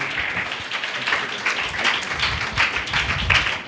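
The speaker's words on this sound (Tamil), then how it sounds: "எல்லாம் உற்சாகமாக கைகளை தட்டுங்க." An audience claps to welcome a speaker at a Tamil Christian Vacation Bible School gathering; dense, steady applause runs throughout, close and fairly loud, with no clear talk over it.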